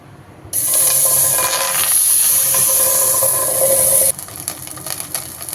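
A sudden loud hiss and sizzle of butter melting in a pan starts after a brief quiet moment, holding steady for a few seconds before dropping to a softer crackle.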